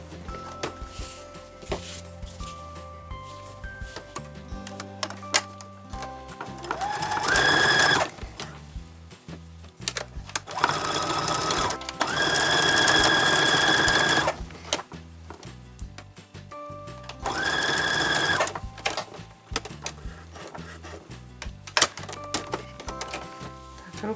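A sewing machine stitches a seam on a short jacket in several loud, steady mechanical runs of a few seconds each, separated by quieter handling clicks and faint background music.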